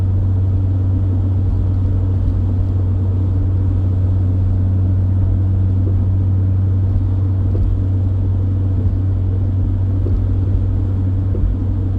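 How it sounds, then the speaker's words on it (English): A first-generation Honda CR-V (RD1) with a Yonaka catback exhaust cruises at 60 mph on cruise control up a hill, its exhaust a steady, loud low drone with road rumble heard from inside the cabin, no talking. "So again, we're still cruising at 60. Cruise is set. Just rolling. Going up a hill right now."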